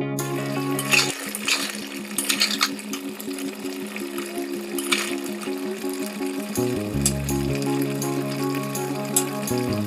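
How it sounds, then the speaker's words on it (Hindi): Mutton and masala fry and sizzle in a pan with a steady crackle, while a persistent mechanical drone hums underneath throughout. "आप थोड़ा देर भून के मसाला मतलब पकने तक मटन को भून लेंगे"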